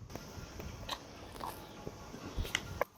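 Close, quiet bites and soft chewing on fish cake at a meal, with a few crisp crunchy bites among irregular mouth sounds and no talk.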